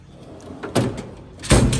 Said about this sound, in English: This is my pliers drawer.